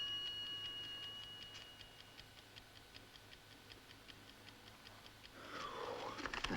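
A clock ticks steadily and quietly at a regular pace over low room hiss, with a brief rustling, brighter noise rising near the end.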